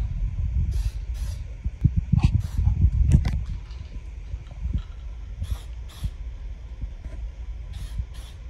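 Flat black Rust-Oleum spray paint goes onto an AR15 rifle in several short, sharp hissing bursts spaced a second or more apart, over a low rumbling background.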